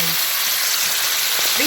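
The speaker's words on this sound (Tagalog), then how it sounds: "Iulog natin ngayon yung pork na minarinate ko sa 2 tablespoon ng oyster sauce. Iprito natin siya" Pork marinated in oyster sauce sizzles loudly in hot oil, a dense continuous frying hiss close up, with a few faint stirring scrapes and clinks near the end.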